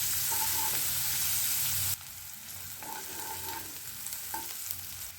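Steady sizzling of onions frying in a pan toward light golden brown for sarson palak saag, a constant crackling hiss with occasional stirring scrapes, close and moderately loud.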